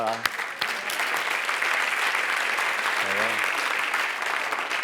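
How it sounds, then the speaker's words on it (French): A theatre crowd at a political humour comedy gala breaks into loud, dense applause lasting several seconds, with a voice speaking briefly over the clapping near the start and again midway. "Michel Guidoni, on l'applaudit bien fort."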